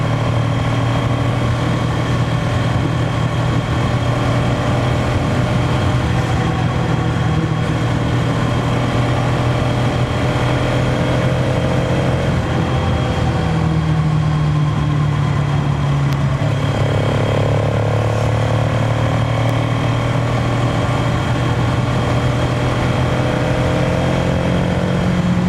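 A Bajaj Pulsar NS200 motorcycle engine runs loud and close for the whole stretch, holding a steady idle hum with pitch rising and falling as it is revved a few times midway.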